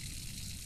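Water runs steadily from a faucet in a horror video game, a continuous broadband gush without pause.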